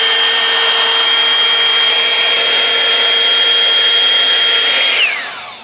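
A Revlon One-Step hair dryer brush blows steadily on curly hair with a loud, even whine and airy rush, held close for about five seconds before it quickly winds down and switches off.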